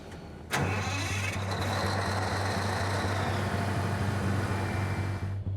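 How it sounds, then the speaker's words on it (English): Caterpillar twin-turbo 12-cylinder diesel generator on a train cranking and firing up, a sharp start followed by a loud, steady low rumble with rhythmic pulses that holds throughout. "I'm gonna actually start the generator and make sure we can get some power down to the rest of the train"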